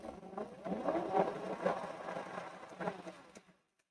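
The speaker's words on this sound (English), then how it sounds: "There's a slight rubbing on the left hand side rear of the cog" Fun Bikes MXR 1300 48 volt electric dirt bike motor whirring in a workshop, with a slight rub at the rear cog, a steady mid-pitched whine with faint rhythmic ticks that winds down and stops near the end.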